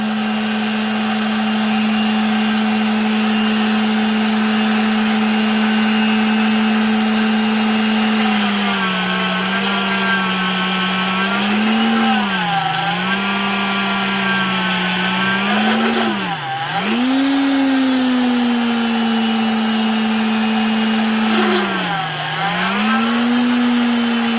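A Vevor magnetic drill with a larger cutter boring a hole through sheet metal, a steady loud motor whine that dips in pitch several times as the cutter bites and is eased slower, running continuously throughout.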